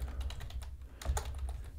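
Rapid, steady keystrokes on a computer keyboard, close and clear, with a brief denser burst midway and no talking.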